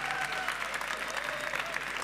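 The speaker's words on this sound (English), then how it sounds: "Can we have a round of applause for Marie-Sophie?" Steady audience applause at a sports panel with Tony Parker and Marie-Sophie Obama, a dense wash of clapping hands that holds evenly for two seconds at moderate, slightly distant volume.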